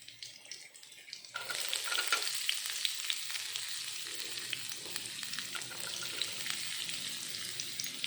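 After a quiet start, a sudden loud sizzle as chopped onions hit hot oil for semiya upma, then a steady crackling fry with occasional stirring sounds.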